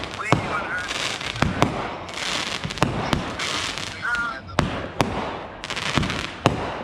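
New Year's street fireworks in Brooklyn crack and bang in a rapid irregular series of sharp reports, some loud and close, over a steady crackling and fizzing wash, with people talking in the background.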